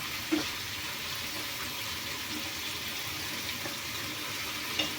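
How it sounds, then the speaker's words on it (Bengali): Water pours steadily as a mixer jar is rinsed out into a cooking pan of spiced masala, a constant close splashing hiss with a couple of small knocks, no voices. "মিক্সির বাটিটা ধুয়েই দিয়ে দেব।"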